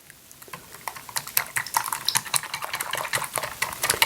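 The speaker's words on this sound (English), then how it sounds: "I'm just going to give all of this a whisk" Paprika, salt and herbs being whisked in a bowl: rapid, close clicking and tapping strokes that build into a dense, steady rhythm, with no talk.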